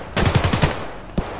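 A rapid burst of about six gunshots in Escape From Tarkov, fired in a quick rhythmic string, then one more single shot, loud and close.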